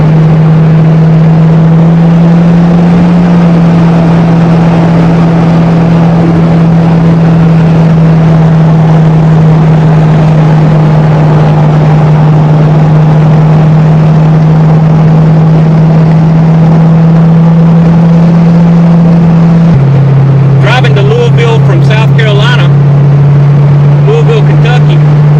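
A steady, loud custom street rod engine idles and runs continuously with a constant low hum, briefly shifting pitch near the end alongside a few faint clicks.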